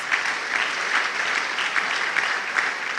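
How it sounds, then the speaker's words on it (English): Steady applause from a university event audience, dense and continuous clapping throughout without any pause. "A round of applause, please."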